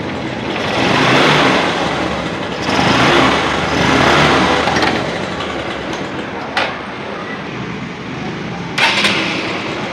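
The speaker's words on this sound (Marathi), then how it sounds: "आता आपण गाडी सुरू करतोय." A Honda Shine motorcycle with a battery charging fault starts up and runs, its engine loud and close with a rough broadband roar that swells and eases as the revs rise and fall.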